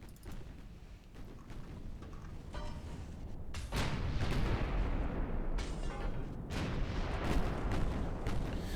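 Naval guns fire high-explosive shells from a light cruiser in the game Ultimate Admiral: Dreadnoughts, a continuous low, rumbling roar of cannon fire that swells noticeably partway through, with distant booms layered over it.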